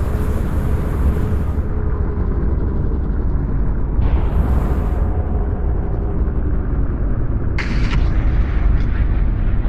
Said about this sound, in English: Engaging primary thrusters.